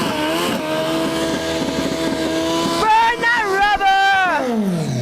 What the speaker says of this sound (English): That was your classic burnout, though.